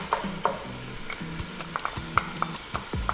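Garlic being stirred in olive oil in a pot for pumpkin soup, a low sizzle broken by repeated scraping and clinking of a utensil against the pot, close by, with no voices.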